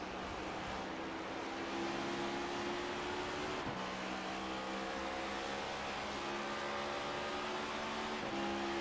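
Race car engine in a Cup Series championship race holding a steady, droning pitch, then dipping sharply in a single downshift before settling again, with a second drop near the end; loud and continuous, no talk.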